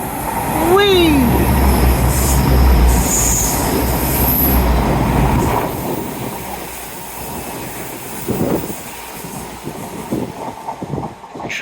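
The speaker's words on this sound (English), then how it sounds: "I will hold on for this train for you." A train rumbles past close by at Dawlish, wheels squealing and clattering over the rails, loud at first and slowly easing off.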